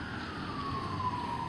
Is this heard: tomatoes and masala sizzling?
no